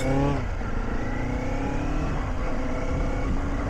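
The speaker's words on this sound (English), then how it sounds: "Let's try and get this bike up a couple of gears." A Kawasaki Z500, a 500 cc entry-level motorcycle, revs loudly at close range and accelerates up through the gears, its engine note dropping at a shift and then climbing again in a steady pull, with wind roar underneath.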